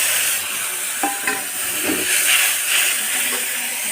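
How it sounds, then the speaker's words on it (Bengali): Chilli and turmeric, then ginger paste, frying in hot oil: a steady broadband sizzle and hiss runs throughout, with a few soft stirring knocks and spits rising over it, close and fairly loud, with no talking. "এবার লঙ্কা হলুদটা তেলেতে দিয়ে দেব"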